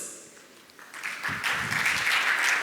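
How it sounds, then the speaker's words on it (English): Applause from a conference audience welcoming a speaker on stage swells after about a second and holds steady, a dense wash of clapping that gets louder toward the end. "Let's please welcome him on stage with a huge round of applause."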